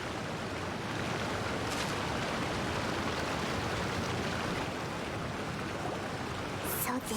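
A waterfall in Genshin Impact rushes with a steady, full hiss of falling water that holds constant throughout, with a brief faint rustle near the end.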